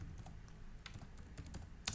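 Typing on a computer keyboard while filling in a spreadsheet column, a few scattered key clicks at an uneven pace, close and fairly quiet.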